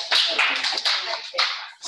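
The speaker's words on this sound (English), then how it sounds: "Start doing the clap one time if you hear me." A church worship audience claps in a series of sharp, close bursts of hand claps with short gaps between them, rather than a single clap.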